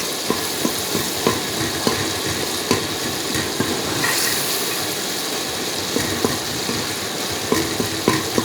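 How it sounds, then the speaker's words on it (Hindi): Crushed garlic fries in a pan with a continuous crackling sizzle, while a spatula stirs it with repeated scraping clicks against the metal, close and loud, and nobody speaks. "अब हम इसमें कुटा हुआ लहसुन डालेंगे।"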